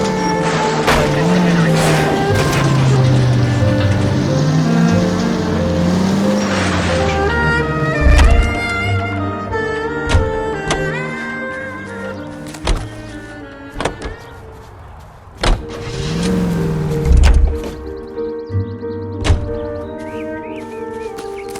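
A car in L.A. Noire drives with a droning engine and repeated squeals and skids, loud and up close across a long stretch, with sharp bumps and knocks.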